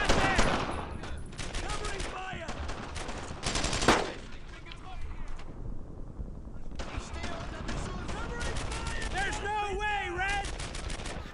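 Dense bursts of machine-gun and rifle fire from the WWII shooter Brothers in Arms: Earned in Blood, rattling in rapid volleys through a French village firefight, with a brief lull midway and a voice shouting over the shooting.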